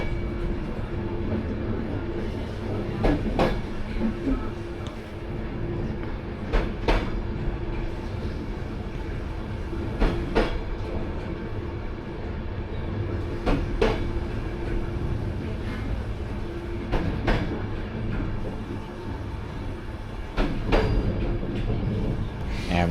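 A night sleeper train from Istanbul to Sofia rolls along on the rails with a steady rumbling drone, punctuated by repeated clacking bursts from the wheels passing over track joints, heard from inside the carriage.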